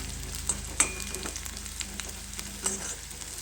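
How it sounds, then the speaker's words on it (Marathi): A small piece of ginger sautés in a pan over a high flame, giving a soft continuous sizzle with a few light clicks of stirring, close and fairly quiet, with no voices. "थोडासा आल्याचा तुकडा त्यात परतत राहायचं"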